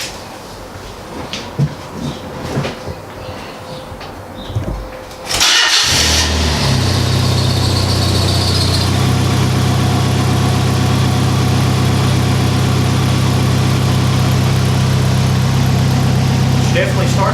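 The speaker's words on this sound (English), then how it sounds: "we're going to jump in the car, fire it up, and see how she runs." A 1989–91 Mazda Miata NA with the 1.6 engine and freshly installed spark plugs cranks and fires, then settles into a steady, close idle that runs loud and even for over ten seconds after a quiet start.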